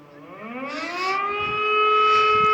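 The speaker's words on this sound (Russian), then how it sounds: "каждая вот такая сирена, вот эта вторая, длится уже 2 минуты" A city civil defense siren sounds during a test in Megion, Russia, its loud wail rising in pitch and swelling to a sustained steady tone.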